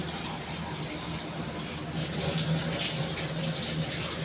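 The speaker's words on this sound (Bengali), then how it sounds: "এবার জল দেব, একটু বেশি করেই জল দেবো" Water poured generously into a pan of fried spices for a fish curry, a steady rushing splash that grows slightly fuller midway and carries on evenly without a break, with no talking over it.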